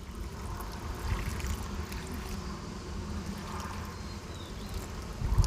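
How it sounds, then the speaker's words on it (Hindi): Water poured onto the soil of a freshly repotted bougainvillea, a steady splashing, trickling flow that runs continuously for several seconds at close range, with a slight surge near the end and no speech. "अब हम वाटरिंग करेंगे, इसमें कुछ वाटरिंग कर देंगे।"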